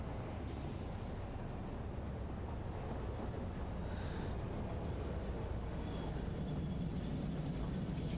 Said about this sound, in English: Let me catch my train real quick.